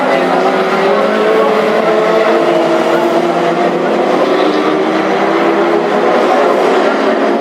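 Classic hot rod race cars roar around a short oval track during a heat race at Hednesford, a loud continuous blended engine drone with a steady sustained tone throughout.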